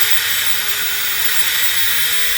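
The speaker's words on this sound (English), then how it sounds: "But as I start cranking up the drill" An electric drill runs off a portable LiFePO4 solar power station, giving a loud, steady whirring drone with a faint underlying motor tone that holds unbroken throughout, with no talking.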